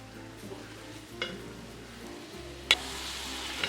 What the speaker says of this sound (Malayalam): ഇതിലേക്ക് നെയ്യും ശർക്കര പാനിയും കൂടി ചേർത്ത് ഇതൊന്ന് ഇളക്കി കൊടുക്കാം.